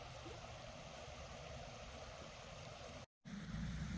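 White Clay Creek rapids flow in a continuous soft rushing wash outdoors, faint and steady, with a brief dropout near the end and no voices.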